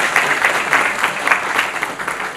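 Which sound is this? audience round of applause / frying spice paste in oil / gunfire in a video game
audience round of applause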